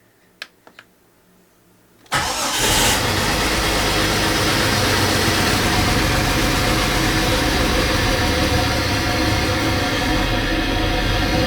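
A Jeep Cherokee XJ 4.0 engine cranks and fires after a few faint clicks, then runs loud and steady with a prominent intake roar, close up and unbroken.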